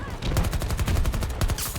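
Shotgun gunfire from the video game Battlefield 2042 in a chaotic battle, heavy booming blasts rapidly repeating over a constant wall of loud combat noise.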